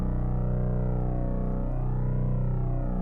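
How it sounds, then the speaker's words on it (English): A sustained Eurorack modular synthesizer tone with a flanger's sweeping, swooshing comb-filter movement rising and falling through it, steady and fairly loud with no voices. "That's a flanger."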